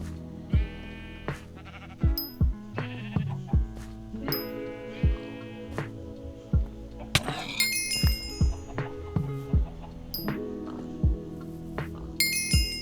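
Sheep minions in Minecraft Hypixel Skyblock bleat repeatedly, short wavering calls spaced every second or so, mixed with dull thumps and other farm animal sounds, loud and close with no talking.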